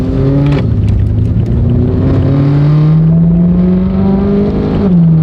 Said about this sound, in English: Look how fast these cars are going.